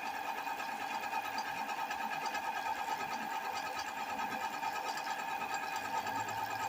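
A brand-new Bigniu BG-X 1500-watt geared e-bike hub motor spins freely with a steady, high-pitched mechanical whir and faint gear chatter, constant and close throughout.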